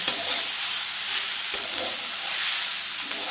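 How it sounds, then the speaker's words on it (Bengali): Fried flat beans (shim) with chopped coriander are stirred in a pan, giving a steady hiss of sizzling with soft scraping, loud and close throughout. "ধনে পাতাটা দিয়ে একটু নেড়ে এবার আমি নামিয়ে দিচ্ছি"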